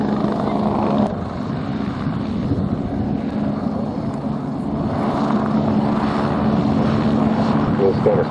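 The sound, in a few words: Westland Lynx helicopter flying backwards in air display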